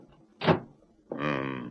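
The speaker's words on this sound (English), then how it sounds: "Shut the door." A door shuts with a single short, muffled thunk in a 1941 radio drama, followed a moment later by a voice speaking.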